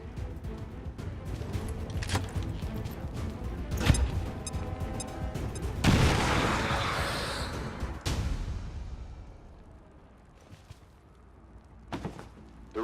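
Frag grenade explosion in the video game XCOM 2: a sharp blast with a short rumbling tail among scattered impacts and gunfire, then a fade to quieter game sounds.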